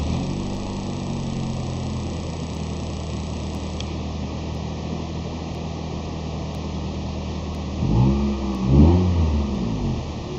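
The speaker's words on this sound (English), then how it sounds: "Let's start it up. Let it run." A 1997 Honda Accord EXi engine runs at a steady, close idle, then revs briefly twice near the end with a rising, throaty note.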